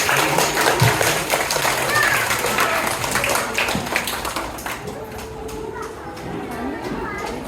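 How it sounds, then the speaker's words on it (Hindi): Audience at an Independence Day celebration at a standard public school applauding to welcome a guest onto the stage, a loud burst of clapping that gradually thins out and fades. "जोरदार तालियों से स्वागत कीजिए इनको।"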